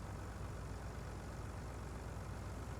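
A semi truck engine idles in Farming Simulator 19, a steady low diesel rumble that holds constant and close throughout, with no talk over it.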